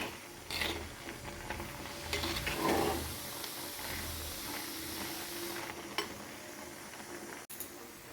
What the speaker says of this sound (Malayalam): ഇതൊന്ന് നന്നായിട്ടൊന്ന് മിക്സ് ചെയ്യാം